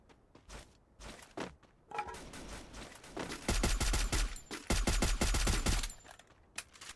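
Rapid bursts of gunfire in the video game Free Fire, with scattered single shots building into sustained automatic fire and heavy volleys, loud and close, with no talking.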